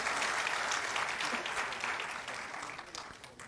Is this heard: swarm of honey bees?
no